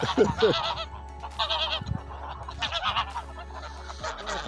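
Geese honk repeatedly nearby, a flurry of nasal calls overlapping in uneven bursts with short gaps between them.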